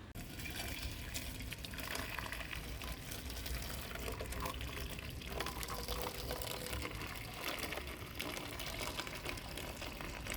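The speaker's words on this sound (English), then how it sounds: "I'm going to be boiling some water and then adding it to this" Boiled water being poured from a kettle onto a bowl of yard plants for a foot soak, a steady continuous splashing and gushing stream heard close up throughout.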